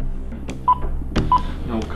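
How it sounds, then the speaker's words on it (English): Telephone keypad tones beep in quick pairs during dialing, clear and close, over a steady background hum. "Come on. Dialing."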